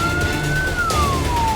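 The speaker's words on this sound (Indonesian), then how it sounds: "Raungan sirine mobil pemadam kebakaran dari tim Posko Gabungan Karhutla Kabupaten Kotim" A fire engine siren from a forest and land fire response team in Kotawaringin Timur wails close by, its pitch rising slightly then sliding downward over a short stretch above engine and road noise.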